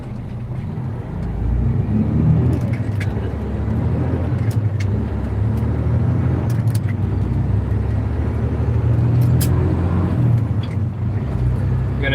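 A loaded semi truck's engine rumbles low and steady as it drives, with a constant heavy drone and faint scattered clicks above it.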